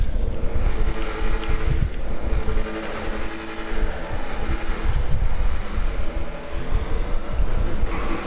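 Ocelot XA21 supercar in GTA 5 with a loud, continuous engine roar that rises and falls over several seconds, mixed with rushing wind noise and no talking.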